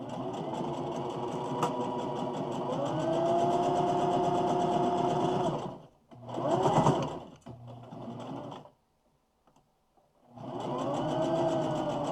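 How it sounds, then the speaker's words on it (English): A sewing machine stitches quilt seams with a fast, steady mechanical whir, stopping briefly for a few short bursts and a near-silent pause before running steadily again. "Now I can go through and sew this down."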